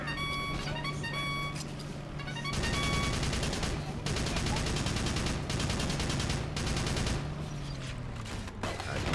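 Gunfire in the Battalion Wars video game, rapid bursts of shots over a steady engine drone and game music, loud and continuous with a short pause partway through, with a voice talking over it.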